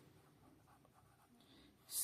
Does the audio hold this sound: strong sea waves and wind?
no